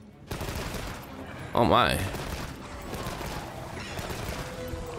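Light bowgun rapid fire in Monster Hunter Wilds, a quick succession of loud gunfire bursts with a sharp warbling impact mid-clip, layered over game effects and a brief spoken exclamation.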